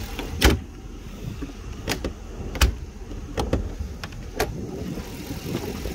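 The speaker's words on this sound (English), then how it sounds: "the car just started lowering by itself" A 2021 Jeep Grand Cherokee L with a 5.7-liter V8 lowers its suspension on its own: a soft mechanical whir, with several sharp clicks and knocks spread over a quiet background.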